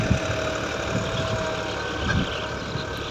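A Massey Ferguson 260 tractor's diesel engine idles steadily nearby, a continuous low rumble with slight periodic surges and no talk over it.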